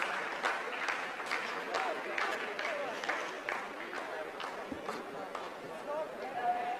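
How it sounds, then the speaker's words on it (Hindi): Scientists in the ISRO mission control room applaud as Chandrayaan 3 completes a descent phase before its soft landing, producing a moderately faint burst of brisk, scattered clapping that continues steadily throughout, with voices talking underneath. "आप इस तालियों के गड़गड़ाहट को सुन सकते हैं"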